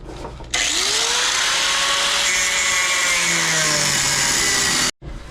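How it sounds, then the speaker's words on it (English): A power tool cuts off seized, rusted bolts on a CJ7 Jeep under restoration, a loud, steady grinding whine that holds for about four seconds before cutting off abruptly. "I'm gonna cut these bolts off because they're just not gonna come out."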